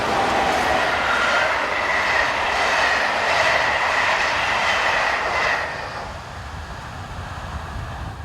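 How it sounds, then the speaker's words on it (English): SNCF class 22200 electric locomotive 22357 hauls a northbound Lyon to Dijon passenger train on the Mâcon to Chalon-sur-Saône main line. It makes a loud, close rushing roar with a rail hiss that drops away sharply near the end. "22357 heads north with the 916 from Lyon to Dijon"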